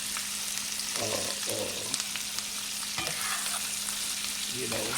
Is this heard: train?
no